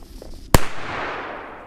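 A firecracker goes off outdoors in snow with a single sharp, loud bang followed by a dull, quickly fading rumble; no talk.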